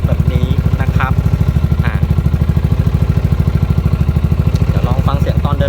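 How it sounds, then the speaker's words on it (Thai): A 2019 Yamaha XMAX 300 scooter with an aftermarket exhaust idles close by, its deep, rapid, even putter steady throughout while someone talks over it. "เสียงเครื่องนะครับ ฟังจากเสียงเดินเบา ก็จะเป็นเสียงออกแน่นๆทุ้มๆ"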